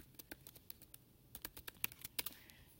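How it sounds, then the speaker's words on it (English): Quick light keystrokes on a computer keyboard, typed in short irregular bursts with a brief pause between them, sound close and fairly quiet. "then I'm going to type in needs improvement"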